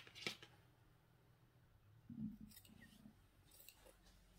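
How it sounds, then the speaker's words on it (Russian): Scissors snip through fabric pieces for a beginner's patchwork children's blanket, giving a couple of brief, faint cuts in a quiet room. "Прямо ножницами, чтобы это было быстро."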